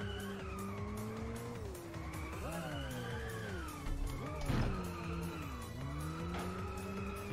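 A car drifting in the racing video game Inertial Drift, its engine droning and rising and falling through a long slalom while tyres squeal and skid steadily throughout, with no talk.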